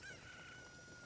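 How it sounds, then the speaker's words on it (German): A chicken in the video game Zelda: Ocarina of Time 3D gives a short, fairly faint, high, tonal clucking call over a steady game background, with no talking. "Hier ist ein Huhn."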